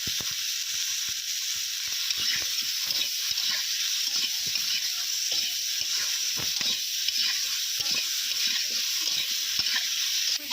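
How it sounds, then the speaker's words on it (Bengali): Cauliflower florets and potatoes with salt and turmeric frying in oil in a pan, a loud steady sizzle with scattered scraping and clicking of a spatula, no voices. "ফুলকপি এবং আলু একসঙ্গে ভেজে নেওয়া হবে"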